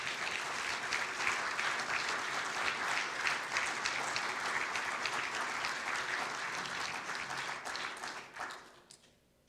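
A church congregation claps their hands in sustained, dense applause that holds steady for several seconds before tapering off near the end.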